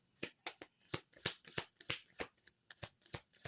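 Playing cards are shuffled and drawn by hand in a quiet room, a series of about a dozen crisp riffling snaps and flicks in an uneven rhythm, close and distinct.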